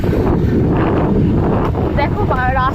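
Strong wind roars across the microphone during a motorbike ride on a rainy, cloudy day, a loud continuous rush that buffets steadily throughout.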